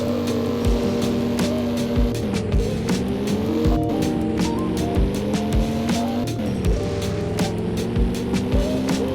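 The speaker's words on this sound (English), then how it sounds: "I will now show you how this car performs on a drag race." A car engine revs hard through a drag race in the Roblox game Driving Empire, its pitch climbing and dropping at each gear change, steady and loud throughout with no talking.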